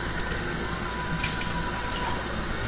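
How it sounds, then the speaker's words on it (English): A bowl is rinsed inside and out under a running kitchen tap, with a steady, fairly faint rush of water pouring throughout and no other sounds. "You just rinse it inside and out."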